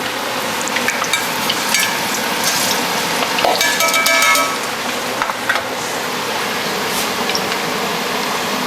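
Beef for ropa vieja frying in a pan, a loud steady sizzle throughout, with a few stirring scrapes near the middle.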